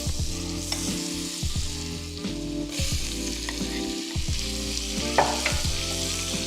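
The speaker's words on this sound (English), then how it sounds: "I'm gonna go ahead and put my shrimp in." Shrimp frying in melted butter in a skillet, a loud, steady sizzle with crackling pops and a constant hum running throughout, no voices.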